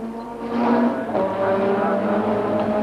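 A 1991 Ford Sierra touring car, the Peter Jackson entry at Bathurst, accelerates away on a qualifying hot lap, its engine a loud sustained roar rising in pitch through the gears.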